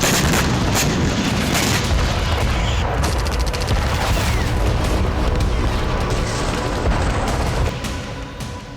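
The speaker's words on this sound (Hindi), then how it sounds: "खार्किव में दाखिल MLRS से ताबड़तोड़ रॉकेट बरसाए जा रहे हैं।" Rocket barrages from MLRS launchers and artillery shelling in Kharkiv, a dense, continuous roar of booms and rumbling blasts that stays loud throughout and eases slightly near the end.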